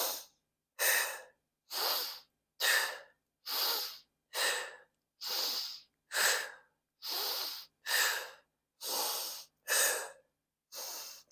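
Steady, forceful breathing during a mat Pilates exercise: about thirteen loud, close breaths come at a regular rhythm, each breath a short airy burst separated by silence.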